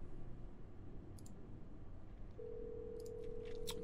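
An outgoing telephone call begins with soft clicks and a steady tone after dialing, the ring signal coming in faintly under low background hiss.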